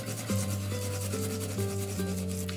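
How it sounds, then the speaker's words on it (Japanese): Garlic being grated by hand for a winter hotpot recipe gives a steady, close rasping rub in repeated back-and-forth strokes, with no talk. "ニンニクはすりおろしていきます。"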